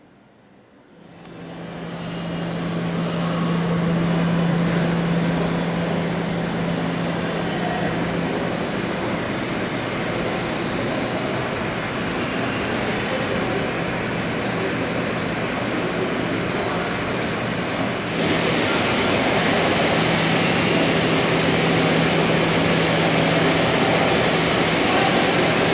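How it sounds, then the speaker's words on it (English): Steady, loud roar of an Aeromexico Boeing 737-800 jet rolling in at the airport between Guatemala and Mexico City, a continuous engine rumble and hiss that swells slightly near the end, with no voices. "our aircraft rolls in as flight"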